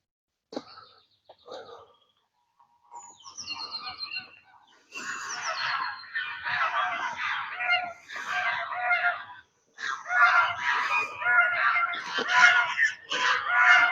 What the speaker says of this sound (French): Ce que vous entendez, c'est les oies.